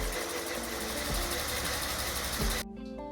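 A cold BMW E31 engine, not run for a few years, idles slightly unevenly with a steady, loud close-up rumble, then cuts off abruptly near the end, leaving a quieter background.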